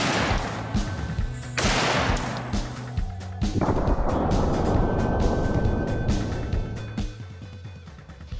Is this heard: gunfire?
yes